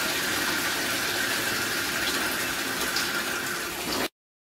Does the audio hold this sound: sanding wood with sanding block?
no